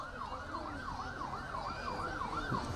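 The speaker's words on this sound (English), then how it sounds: "As you could hear the sirens possibly in the background." Emergency vehicle siren wailing in a steady rising and falling sweep, heard faint and distant in the background at a nighttime holiday lights parade, with crowd noise beneath.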